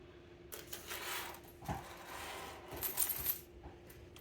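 Coins clink and rattle as they are handled and dropped, a series of bright metallic jingles and small impacts up close, coming in irregular bursts with brief pauses between.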